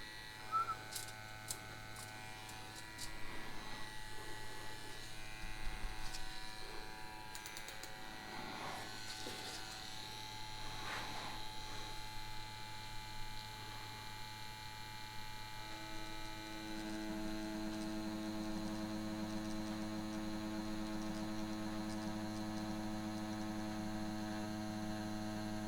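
An Xnet Vipera/Bestia rotary tattoo machine on a 2.4 mm stroke buzzes steadily with a mains-like hum, working hard while pulling a line; the tone dips and labours through the middle, then settles into a constant drone, up close and alone.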